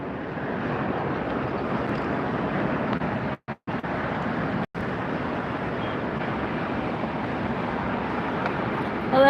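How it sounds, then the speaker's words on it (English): A distant Air Tahiti Nui widebody airliner takes off at LAX, a steady broadband engine roar and wind rush filling the scene throughout with brief dropouts, swelling slightly at the end. "Taking off now on the far side is going to be the Air Tahiti Nui"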